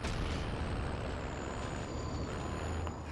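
A Call of Duty: Modern Warfare armored vehicle rumbles along at steady speed, a dense continuous engine and road roar with a faint whine on top, no talk.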